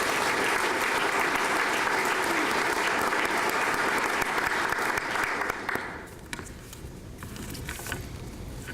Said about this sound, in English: Please join us in giving a round of applause for all of these wonderful people.